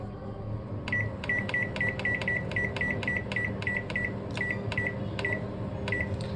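A microwave oven heating a homemade pizza hums steadily while its keypad gives a quick run of about a dozen short, high beeps, clustered then spaced out, with no talking.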